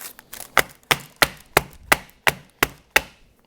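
A tin of brownie mix being tapped on a surface to settle the batter, about nine sharp, evenly spaced knocks, close and clear with no other sound.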